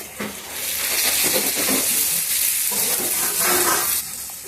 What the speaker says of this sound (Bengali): এখন দিয়ে দিচ্ছি ভেজে রাখা আলু আর সিমের বিচিটা